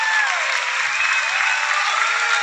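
An outdoor festival concert audience applauds loudly and continuously, a dense wash of clapping from a large crowd, with faint whistles or cheers woven through.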